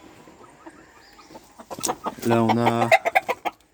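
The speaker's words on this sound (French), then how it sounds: "une poule croisée espagnole Saint-Domingue avec un coq sans queue" Spanish Saint-Domingue cross hen with a rumpless rooster, a run of loud close clucks and short calls in the second half after quieter rustling, with a brief bit of talk.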